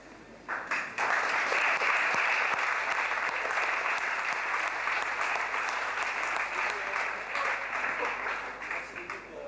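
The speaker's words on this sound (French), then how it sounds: "Je vous demande d'applaudir le deuxième gagnant de la catégorie passionné professionnel, Éric Combier." Audience applause for a prize winner at a sports store inauguration in Mâcon, France, a sustained wash of many hands clapping, swelling after a brief start and holding steady, with some voices underneath.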